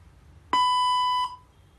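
A robotic language translator's single steady electronic beep rings out for about three quarters of a second, clear and close, surrounded by near silence.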